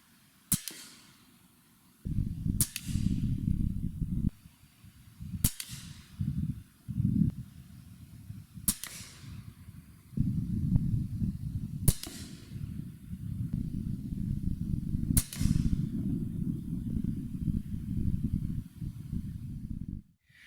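A survival air rifle firing heavy 21.75-grain Gammo TS22 pellets at a 50-yard range: six sharp, loud cracks spaced a few seconds apart, with breathy handling noise and rustling between shots.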